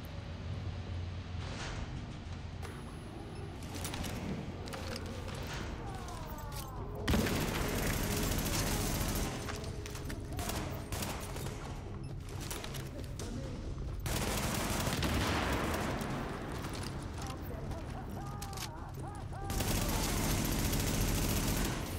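Gunfire in The Division video game, bursts of automatic shots and heavy booms layered over a dense rumbling soundscape, fairly loud and continuous throughout.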